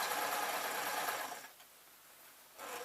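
A sewing machine stitches a seam on an old-fashioned painting smock, whirring loudly and steadily at close range, pausing briefly, then starting up again.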